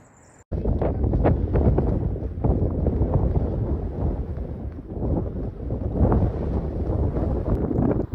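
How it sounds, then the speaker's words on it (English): Strong, steady wind on a Pennine hilltop above Diggle, England, buffets the microphone with loud, broadband roaring gusts that continue throughout, after a brief quieter moment at the start. "It's a bit windy up here."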